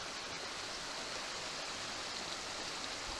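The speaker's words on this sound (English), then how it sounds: "Even with the stream running high." A mountain stream running high and fast, a steady, dense rush of water that stays loud and even throughout, with no voices over it.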